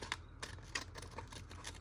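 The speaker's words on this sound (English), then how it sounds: "If I've got to cut out a circle, it's going to be with these scissors." Scissors snip through paper while cutting out a circle in a craft session, giving a few quiet, irregular clicks and rasps about every half second over faint background hiss.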